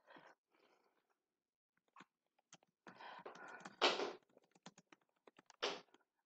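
Keys clatter on a computer keyboard while a subject line is typed into an email, irregular bursts of close, crisp clicks separated by brief pauses, alone with no talk.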